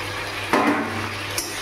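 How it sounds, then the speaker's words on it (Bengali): Fried potato pieces are tipped into a wet spice mixture for a banana-flower dish, giving one close clattering thud against the pan and a second faint knock a moment later. "এবার আমি এখানে ভাজা আলুগুলো দিয়ে দেবো এর ভেতরে।"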